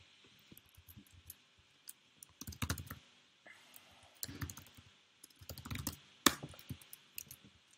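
Typing on a computer keyboard while editing cells in Google Sheets: scattered bursts of quiet key clicks with short pauses between them, close and alone with no voices.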